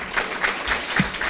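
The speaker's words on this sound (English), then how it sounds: "please help me in giving Tiffany a round of applause for all that she does" A short stretch of room applause at a school board meeting, many hands clapping steadily for an honoree, with a faint voice sound mixed in.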